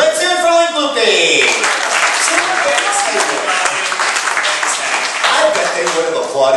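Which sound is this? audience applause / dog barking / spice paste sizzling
audience applause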